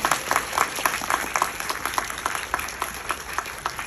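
Sustained audience clapping at a Korean film press talk event for the movie Hunt, a dense crowd applauding steadily throughout with individual claps popping out of the wash.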